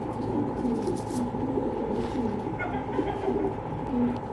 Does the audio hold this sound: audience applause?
no